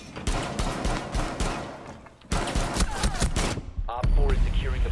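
Rapid gunfire in the video game Rainbow Six Siege crackles in dense, loud bursts, pausing briefly near the middle before another volley and a few sharper impacts close it out.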